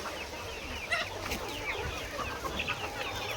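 Several chickens, a mixed flock with guinea fowl and turkeys, cluck and chatter softly, short overlapping calls against a quiet background.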